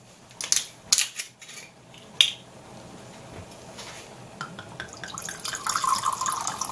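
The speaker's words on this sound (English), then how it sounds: "I'll pour myself a rather nice glass of Kamala" A glass of Sauvignon Blanc wine is poured in a kitchen where crab pasta is cooking, with a few sharp clinks of the glass at the start, then a soft steady trickle of liquid that swells toward the end, with no talk.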